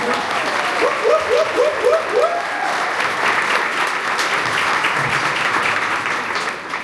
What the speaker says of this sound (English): And a round of applause to Anthony.